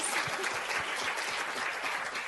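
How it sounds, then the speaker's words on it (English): A workshop audience gives a sustained, even round of applause for the moderator, heard from some distance in a meeting room, steady and moderately quiet throughout. "let's have a round of applause for our moderator."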